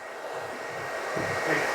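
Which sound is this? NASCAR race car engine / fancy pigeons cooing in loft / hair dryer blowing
hair dryer blowing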